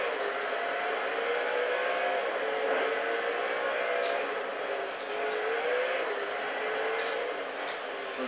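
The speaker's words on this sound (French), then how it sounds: "Voilà, Koenigsegg CCGT, je ne la pilote pas souvent." Koenigsegg CCGT supercar in a racing video game at Long Beach, a steady high engine drone held throughout with slight pitch shifts as it accelerates, fairly loud and continuous with no talk.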